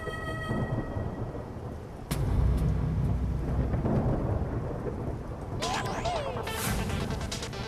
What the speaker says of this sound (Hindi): वाह, बाहर मस्त बारिश हो रही है।